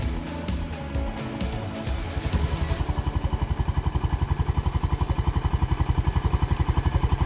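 A Lifan KP Mini 150 small motorcycle engine, choked, catches after some clattering handling and settles into a steady, close, evenly pulsing idle that runs on alone.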